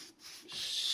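Close, quiet brushing strokes of sanding sealer onto a timber interior door: a soft scrape followed by a longer, hissing swipe of bristles across the wood.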